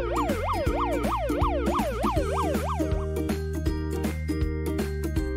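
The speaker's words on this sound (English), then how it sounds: "Police car." A police car siren wails in fast rising and falling sweeps for a few seconds, then drops away, leaving steady background music playing alone.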